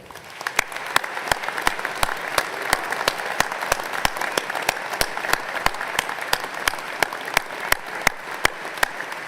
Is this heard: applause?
yes